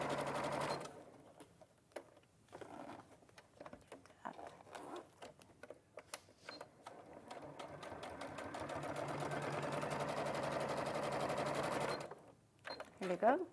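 A sewing machine runs long, steady top-stitching passes along a make-up bag, pausing briefly between bursts, with a person talking over the mechanical whir throughout.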